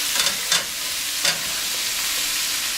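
Chicken frying in a pan gives a steady close sizzle, broken by a few brief stirring scrapes near the start.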